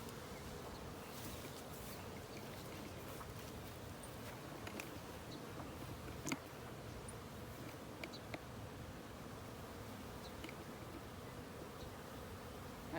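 Honey bees droning at a hive entrance, a steady low buzz from many insects with occasional louder individual passes close by, no talking.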